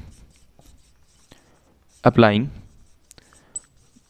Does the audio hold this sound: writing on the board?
yes